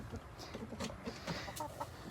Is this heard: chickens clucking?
yes